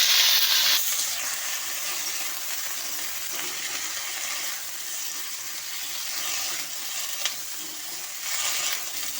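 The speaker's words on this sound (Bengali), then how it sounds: "পেঁয়াজগুলো ভাজা ভাজা হয়ে গেছে, এখন দিয়ে দিচ্ছি সবজি।" Vegetables tossed into a pan of browned fried onions sizzle and fry steadily, with scraping stirs and a brief clink partway through, the busy crackle staying fairly close and even throughout.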